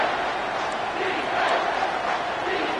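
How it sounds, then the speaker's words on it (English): A packed stadium crowd roars steadily through a tense third-down play at a Notre Dame versus LSU college football game, a dense, sustained wall of cheering with no breaks. "This crowd knows when to bring it."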